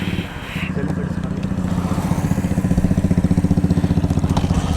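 A Kawasaki motorcycle engine runs steadily and close by, a low rhythmic idle that firms up into a regular pulsing throb, with faint voices in the background.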